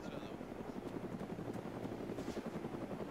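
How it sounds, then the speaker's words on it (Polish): Helicopter flying in the video game ArmA 3, a steady rotor thrum that is fairly faint and distant and holds constant throughout, with no speech over it. "Helikopter? Helikopter. Brzmi jak QA."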